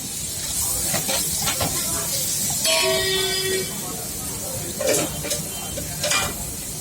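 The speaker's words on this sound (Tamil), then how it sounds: "இதிலே வெஜிடபிள்ஸை மீல் மேக்கர் இதெல்லாம் போட்டு ஃப்ரை பண்ணிட்டு இருக்கோம்" Vegetables and meal maker sizzle in hot oil with ginger, garlic and spices in a large kitchen pot, a steady close hiss with stirring clatter and a brief tonal beep, as people talk nearby.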